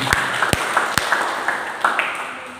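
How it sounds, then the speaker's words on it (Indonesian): Sparse hand claps from a church congregation, several sharp separate claps spaced across a couple of seconds over a low murmur of background noise. "Puji Tuhan, tepuk tangan dulu buat Tuhan."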